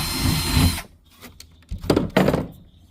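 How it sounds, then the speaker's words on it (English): A short burst of a power drill with a quarter-inch bit whirring, then quieter clunks and handling noises of tools nearby. "1/4 inch drill bit."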